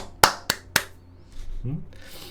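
Three sharp, loud hand claps in an even rhythm, followed by a short stretch of quieter voices.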